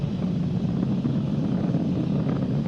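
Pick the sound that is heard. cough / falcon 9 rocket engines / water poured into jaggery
falcon 9 rocket engines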